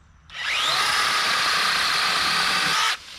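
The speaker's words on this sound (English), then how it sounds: "I like how you can cut it and you can grab the branch in one hand and still hold the chainsaw" A mini 6-inch electric chainsaw whines at a steady high pitch for a few seconds, loud and close, as it cuts a branch about 1.5 to 2 inches thick, then cuts off abruptly.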